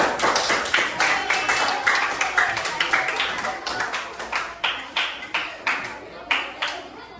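A small group clapping hands, irregular bursts of sharp claps that break into distinct rhythmic strikes later on, fairly close, with voices talking underneath.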